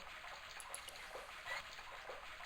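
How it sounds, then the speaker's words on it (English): Rusty faucet in the Broken Sword video game spewing a stream of water, a faint steady trickle and hiss of running water with small splashes, heard alone and quietly. "The faucet creaked, coughed, and spewed out a stream of rusty-colored water."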